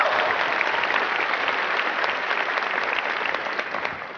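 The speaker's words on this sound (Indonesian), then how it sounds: "Mohon aplaus untuk PT Duta Network Indonesia." Audience applause at a corporate seminar for PT Duta Network Indonesia, a dense, steady clapping from a full room lasting several seconds and fading slightly at the end.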